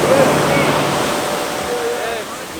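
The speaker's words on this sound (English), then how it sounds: "We came to the beach to watch the sunset, and there's so many surfers in the water" Continuous ocean surf rushes and washes at a beach at sunset with surfers out in the water, a steady broadband roar with wind buffeting the microphone and faint voices mixed in.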